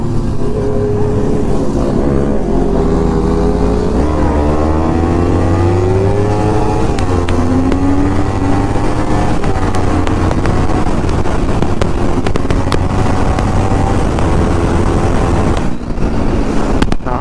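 A sport motorcycle from a group ride of a Kawasaki Z900, Ninja 300 and KTM 200 accelerates hard. Its engine note climbs through repeated gear pulls, loud and close, with steady wind roar and no talk.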